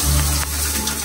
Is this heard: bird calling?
no